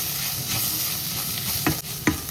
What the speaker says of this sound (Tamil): ஒரு 15 செகண்ட் அதை வடிவாக எல்லாம் சேர்கிற மாதிரி கிளறுவோம்